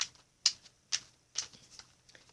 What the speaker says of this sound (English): I'm going to do one more shuffle for y'all, and then I'm going to cut the deck